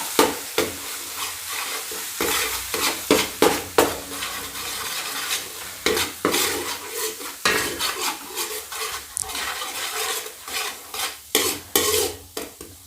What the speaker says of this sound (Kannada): ಹಸಿ ವಾಸ ಹೋಗುವವರೆಗೆ ಫ್ರೈ ಮಾಡಬೇಕು.